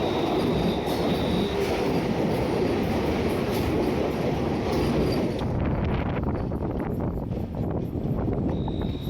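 An orange Vande Bharat express passes close alongside, a loud continuous roar of rushing carriages and wheels on rail that thins out toward the end, heard from another moving train.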